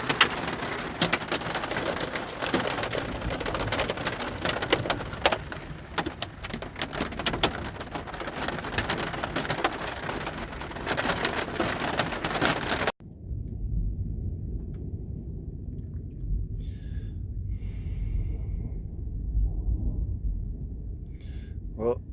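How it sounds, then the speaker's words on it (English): Dense hail rattling hard and continuously on a surface during a storm in Rushville and Monmouth, Illinois, loud and close, then cutting abruptly to a quieter low rumble with faint scattered sounds. "Alright, that's definitely hail."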